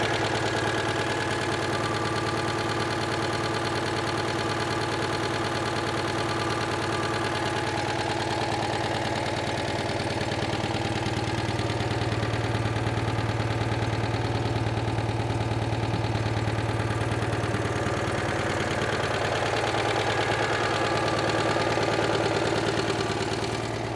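A Citroën 2CV engine idles with a slightly high tick over, a steady low-pitched throb with an even, unbroken chug running loud and close throughout.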